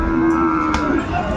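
A six-month-old Sahiwal bull calf at a cattle market in Dinajpur gives one loud, sustained, steady moo close by, lasting the whole moment, with faint market background beneath.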